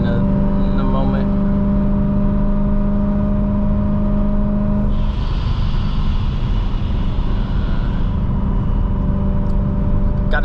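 A Procharged BMW M3 engine drones steadily from inside the car with a supercharger whine rising midway, while a person talks over it.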